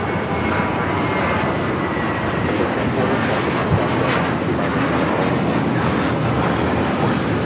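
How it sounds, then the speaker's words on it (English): An American Airlines Airbus A321 takes off from Los Angeles International Airport, its jet engines making a loud, steady, broadband roar that holds for the whole stretch without any voices. "This is American Airlines Flight 32 taking off to JFK on the A321."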